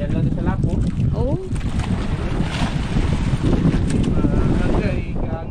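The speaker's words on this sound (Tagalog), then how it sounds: "kahangin-hangin" Strong wind blows at sea, heard from aboard a small boat, a loud, steady roar with microphone buffeting and waves washing beneath, continuous throughout with no clear talk.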